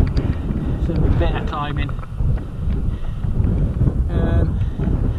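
Gusty wind buffets the microphone while cycling over rolling hills on a 200 km audax ride, a steady rumbling roar under a man's speech.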